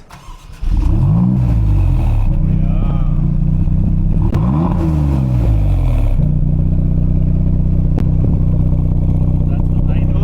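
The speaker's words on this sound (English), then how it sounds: "So we're gonna start this monster, V6." A Maserati MC20 V6 cranks and fires into a loud, close idle, with the revs flaring up and settling twice before holding a steady throb.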